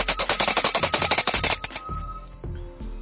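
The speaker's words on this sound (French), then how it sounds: "et bon coup de cloche." A bell is rung rapidly over a live news-show broadcast, with quick repeated strikes for about a second and a half, then lingering ringing tones that fade out, loud and close.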